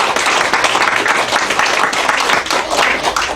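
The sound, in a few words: congregation applause in church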